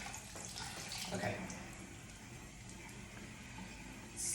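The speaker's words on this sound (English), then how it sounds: "you can see it all dripping into the sink, the gross colors" Tap water runs steadily into a sink while makeup brushes are rinsed under it, a continuous close splashing wash with soft talk over it.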